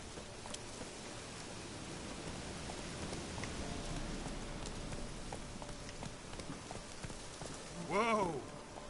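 Horse galloping in The Witcher video game, a steady patter of hoofbeats under rain-like noise, followed by a short whinny near the end, with a player talking over the game audio.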